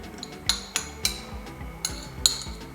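A utensil clinks against a dish several times at an irregular pace while vegan food is mixed with soy sauce, with sharp close taps over a quiet background.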